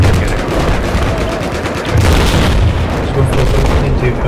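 Rocket blasts and gunfire from a close-quarters Battlefield 4 match on the Siege of Shanghai map, loud and dense, with booms and rapid shots overlapping throughout.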